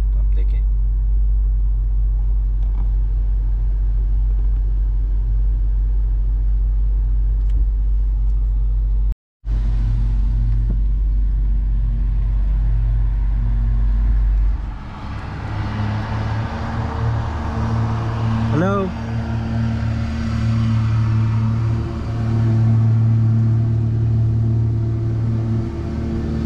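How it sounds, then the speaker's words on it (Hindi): A car creeps slowly forward in a fast-food drive-thru line, its engine a steady low idle rumble that later eases into a lighter hum, with people talking over it. "चल तो रही है गाड़ी आहिस्ता आहिस्ता"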